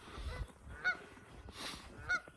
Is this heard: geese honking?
yes